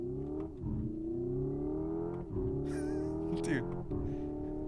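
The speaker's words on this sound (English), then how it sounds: "Did you just hear burbles? Downshifting?" An electric car with a dual-clutch transmission produces digitally simulated engine and exhaust sound while downshifting, a smooth revving tone broken by several distinct shift dips and brief crackling burbles, moderately loud.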